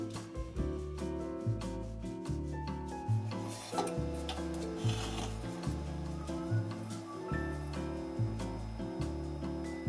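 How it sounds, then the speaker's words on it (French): A CNC machine cutting aileron hatches into wood for a wooden RC airplane wing, a continuous mechanical whir with rhythmic stepping tones and scraping cutter noise, close and steady throughout. "C'est parti pour la découpe des trappes de cerveau d'aileron à la commande numérique."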